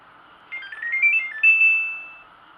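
An air conditioner's circuit board gives an electronic power-on chime, a short rising melody of clear tones ending in one sustained note that fades out, heard alone over a faint steady hum.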